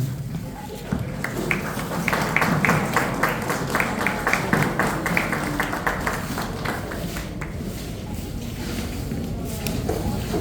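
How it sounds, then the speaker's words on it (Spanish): A crowd at a Paraguayan arts and culture event at Palacio Barolo, Buenos Aires, claps in a brisk, uneven burst that gradually fades out, with some background noise underneath. "Fuerte ese aplauso."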